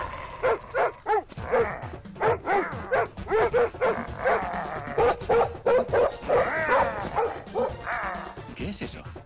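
A man imitates a dog with rhythmic barking and yipping sounds, a series of short repeated woofs in a close, clear voice.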